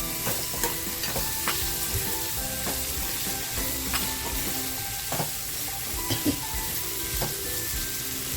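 Cluster beans fry in a pan over a low gas flame, giving a constant close sizzle broken by repeated scraping and knocking as they are stirred.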